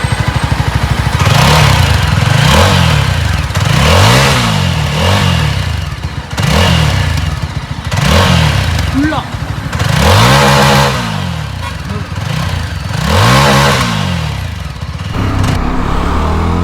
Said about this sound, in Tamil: Exhaust note கேட்டுறீங்களா?